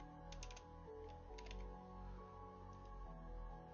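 Computer keyboard typing at a desk: bursts of quick, light key clicks in short clusters, close and quiet over a faint steady hum.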